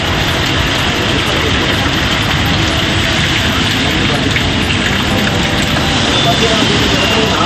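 Heavy rain pouring over Gudalur in the Nilgiris district, a loud, dense, unbroken hiss of rainfall that stays constant throughout.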